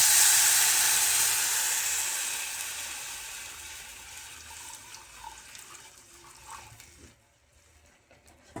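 Water pours steadily into a cooking pan holding garlic and chilli for traditional horse gram mandge, a loud rushing hiss at first that fades gradually as the pan fills, then stops near the end.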